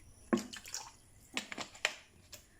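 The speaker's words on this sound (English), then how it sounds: "Add a bit of vinegar to the water and wash them." Water with a little vinegar splashes and drips in a few short bursts as peppers are rinsed by hand, close up and fairly soft against a quiet background.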